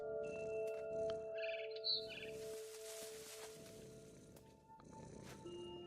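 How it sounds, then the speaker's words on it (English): A cat purring in the game What Remains of Edith Finch, a soft, steady low rumble running under quiet game ambience with a scared bird chirping faintly in the background. "Listen to me purring."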